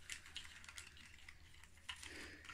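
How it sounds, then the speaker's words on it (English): Tarot cards are shuffled by hand, a faint run of quick papery flicks and taps with a slightly denser riffle near the end. "So let's have a little shuffle."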